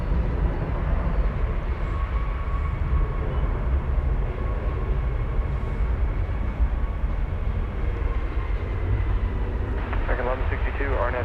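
An American Airlines Boeing 737-800 departing DFW Airport, a loud, steady broadband jet engine roar that holds throughout, with a brief rising whine near the end.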